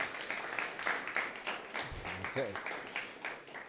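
Audience applause at an undergraduate economics awards ceremony, steady broadband clapping filling the room throughout, with a brief spoken word from the presenter partway through.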